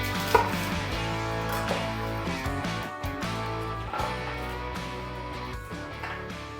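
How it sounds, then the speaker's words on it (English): A knife roughly chops carrots into big chunks on a board, a run of fairly close, irregular knocks and thuds, heard alone without talk. "I'm just going to roughly chop them into quite big chunks."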